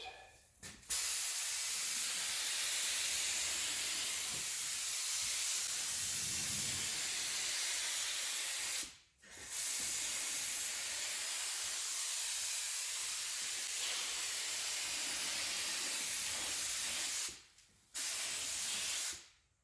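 Spray gun laying a final clear coat on the fenders of a Chevrolet Express van, a loud continuous close hiss held in long passes, broken by two brief pauses where the trigger releases.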